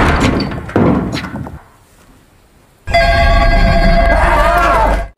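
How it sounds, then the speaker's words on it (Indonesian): A telephone inside an abandoned house in the middle of a forest suddenly bursts into loud, continuous ringing after a quiet stretch, following some earlier rustling and thumping noises. "Tiba-tiba, suara dering telepon mengejutkan mereka."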